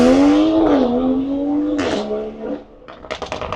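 A BMW M3 with a B58 engine and all-wheel drive accelerates hard nearby, its loud rising engine note climbing through gear shifts before easing off into a crackling, popping exhaust.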